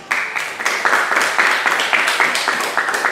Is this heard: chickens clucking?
no